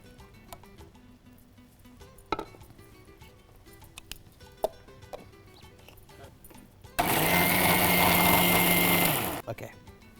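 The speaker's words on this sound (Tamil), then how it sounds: "மிக்சியில் போட்டுலாம்." A kitchen mixer grinder blends cooled soup ingredients in a short loud whirring burst of about two seconds, following a stretch of quiet clinks and knocks.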